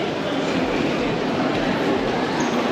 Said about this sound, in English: Okay, so we made it to a Tokyo station,